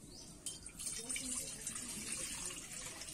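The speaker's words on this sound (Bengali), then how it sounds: "কড়াতে আমি জল দিয়ে দেবো।" Water poured into a wok set on a lit stove, a steady broad splashing rush that runs the whole moment at moderate level, close by, with no voices.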